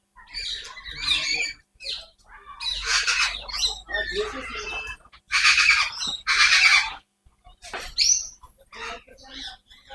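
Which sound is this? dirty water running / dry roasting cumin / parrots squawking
parrots squawking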